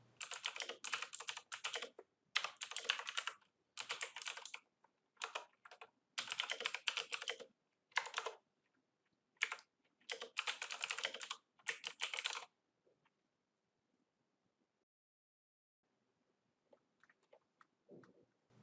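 Someone types code on a computer keyboard in rapid bursts of close, crisp keystrokes separated by brief pauses, then the typing stops and leaves near silence.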